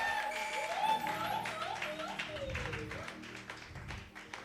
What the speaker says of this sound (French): J'aimerais que tu donnes des acclamations à Jésus.